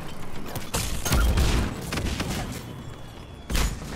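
Gunfire from a gun in Mass Effect 3: several heavy booming bursts of shots with mechanical clatter between them, loud and close.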